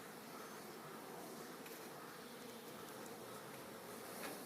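A dense, steady buzz of many honey bees on the hive frames humming together, continuous and fairly soft, with no pauses.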